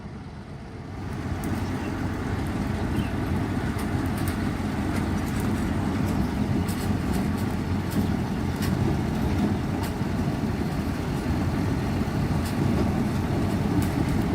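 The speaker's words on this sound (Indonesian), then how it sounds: "Lokomotif nomor 7 Diema." A Diema locomotive, number 7, rumbles along a narrow lorry railway with sharp, tight curves, a steady low engine drone building in and holding for many seconds, with faint clicks above it.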